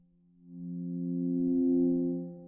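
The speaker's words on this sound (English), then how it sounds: "Get this amazingly pure throbby sound." Quiet pure throbby synth pad from a Sculpture synthesizer, played softly so it has almost no overtones: a smooth sustained tone that swells in and slowly fades, alone and clean.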